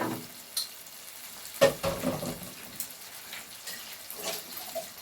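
Water is poured into a pan while tilapia cooks, giving a close, soft sizzling and watery stir that swells and fades, with a few sharper clinks.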